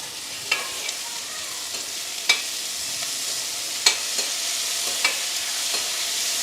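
Small onions and tomato sizzle steadily in sesame oil in a pan, a constant bright frying hiss broken by a few sharp clinks and scrapes as the spoon stirs, close and fairly loud with no talking.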